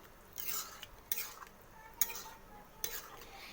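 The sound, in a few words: stirring lentils in a pan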